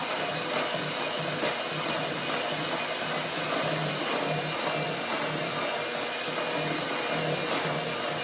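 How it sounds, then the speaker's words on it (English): Apple cake batter being mixed with an electric mixer, a loud, steady whirring drone close by that runs without a break and with no talk over it. "So now we mix all this. Do all the mixing right now."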